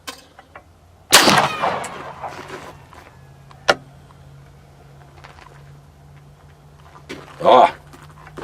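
A Sig Sauer P210 pistol fires a single loud gunshot at an outdoor range, a sharp crack with a brief ringing tail, followed by quiet, a faint low hum and a smaller later thud.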